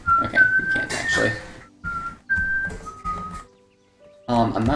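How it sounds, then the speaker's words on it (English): A person whistles a short, wavering tune in several bursts with brief pauses between phrases, close and clear, over faint background noise. "I'm not sure how the mic deals with whistling"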